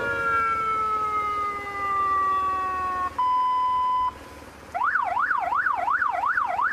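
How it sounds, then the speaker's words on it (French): A police-style siren fitted to a motorcycle: loud and close, first a descending wail, then a steady held tone, then a rapid rising-and-falling yelp, with no talk over it. "Même la sirène est comparable à celle d'un véhicule de police."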